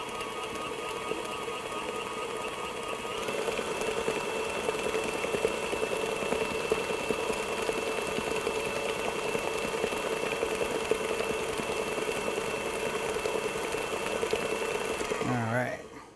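Electric mixer beating chocolate cake batter, a steady whirring drone that runs loud and even for about fifteen seconds before winding down at the end.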